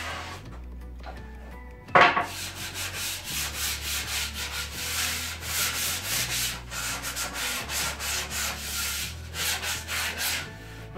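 Close, steady sanding of a wooden dining table top being refinished, a continuous rough rubbing with rhythmic strokes that begins abruptly after a quiet opening and carries on alone to the end.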